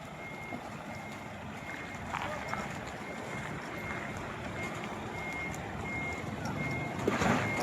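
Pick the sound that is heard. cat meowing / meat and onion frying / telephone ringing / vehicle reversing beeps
vehicle reversing beeps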